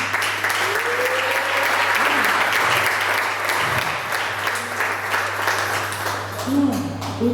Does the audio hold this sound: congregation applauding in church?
yes